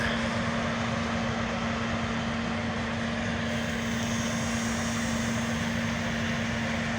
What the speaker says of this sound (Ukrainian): Комбайн.